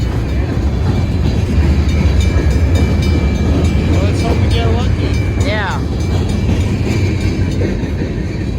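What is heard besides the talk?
freight train passing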